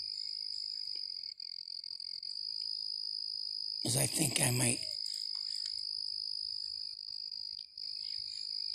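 Steady, shrill crickets chirp continuously at night in the woods, a dense insect drone throughout, briefly interrupted by a short spoken phrase from someone nearby.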